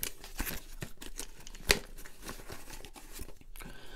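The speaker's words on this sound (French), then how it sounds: "on va tout de suite l'ouvrir ensemble d'ailleurs" Packaging for an Alfawise mini Wi-Fi smart plug being opened, with irregular crinkling, tearing and rustling of cardboard and plastic and one sharp snap near the middle, all close and fairly quiet.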